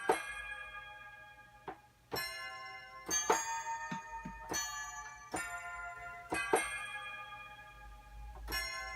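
A synthesized bell from a Nexus expansion played as a trap melody, bright ringing struck notes in an irregular rhythmic pattern with decaying tails, clear and alone.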